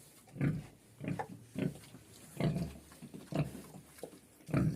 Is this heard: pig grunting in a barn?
yes